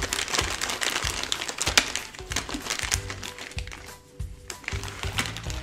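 A blind-bag packet for a Funko or Lego Harry Potter and Fantastic Beasts keychain is torn open by hand, giving steady close crinkling and crackling of plastic wrapper with sharp snaps and short pauses.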